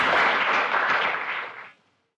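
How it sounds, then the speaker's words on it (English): A short burst of applause from a small group in a radio studio setting, steady clapping that fades out quickly near the end. "Big hand of applause."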